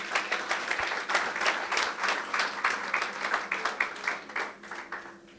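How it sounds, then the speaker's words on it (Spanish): A church congregation applauds during a sermon, sustained, fairly close clapping from many hands with a slightly pulsing rhythm that carries on for several seconds before thinning out. "Un aplauso para estos dos muchachos."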